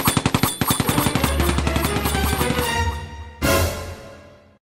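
Rapid bursts of Sten gun automatic fire in a cartoon, loud and close, a fast rattling string of shots followed by a final heavy blast that rings out.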